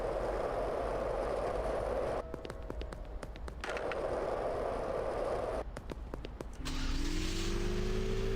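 Car engine running steadily in the Schedule 1 video game, a continuous loud rumble with brief mechanical clunks midway and a rising rev toward the end.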